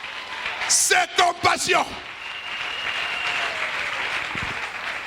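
A church congregation claps and cheers for the Lord, steady crowd applause filling the room behind a preacher's short exclamation in French, moderately loud and sustained to the end.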